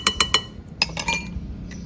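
A metal utensil clinks against a bowl while banana bread batter is stirred: three quick bright taps, then a few more scattered clinks, close and clear.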